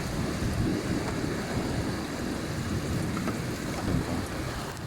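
Heavy rain mixed with hail pours steadily during a flood, a dense roaring wash with wind noise buffeting the microphone and a low rumble beneath.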